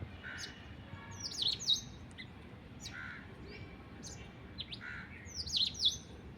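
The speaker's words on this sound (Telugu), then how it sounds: "ఆ పిచ్చుకల సౌండ్లో డిఫరెంట్ ఉంటుంది మనకు" Sparrows chirping in the early morning, faint and somewhat distant, giving short bursts of high twittering notes at irregular intervals over a quiet background, with no voices.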